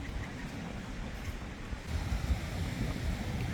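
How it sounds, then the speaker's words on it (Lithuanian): Sea waves washing onto a sandy beach in Turkey on a windy day, a soft continuous surf rumble mixed with wind buffeting the microphone, rising slightly toward the end, with no talk. "tai yra bangos"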